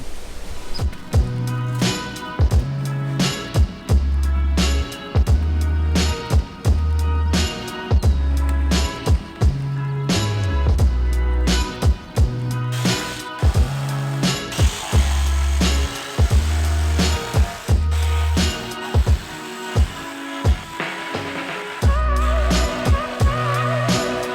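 A power saw cuts a plywood subfloor piece for a Ram ProMaster van in repeated short bursts, each a loud close whining cut separated by brief pauses, with clatter between runs.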